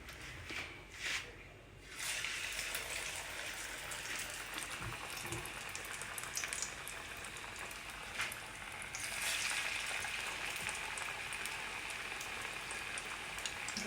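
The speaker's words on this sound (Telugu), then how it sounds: "నూనె కాగినట్టుందండి నూనెలో వేస్తున్నా" A healthy evening snack frying in hot oil, a steady crackling sizzle that comes up after a brief clatter and holds at an even, fairly soft level throughout.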